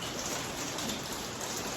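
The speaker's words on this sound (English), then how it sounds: "See here the rain, cold rain in the 40s, low 40s." Cold rain falling steadily outdoors in low-40s weather, a dense, even patter of drops on surfaces with no voices, constant and moderately loud throughout.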